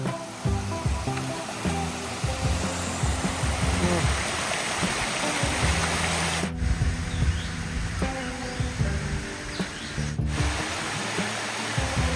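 A five-tiered waterfall in Phu Muang forest park, Suphan Buri, Thailand, gives a steady, close rush of falling water that runs without a break, with faint tonal sounds underneath.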